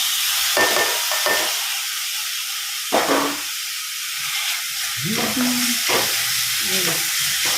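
Chopped tomatoes go into a pan of softened onions for masala bun filling, giving bursts of hiss and sizzle with scraping stirs and clanks, close by, amid quieter stretches and faint background noise.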